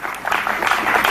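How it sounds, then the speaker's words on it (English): Applause at the South Asia Learning Summit 2026 in Hyderabad, a steady dense wash of clapping from the audience filling the whole moment without pause. "Please give them a round of applause again."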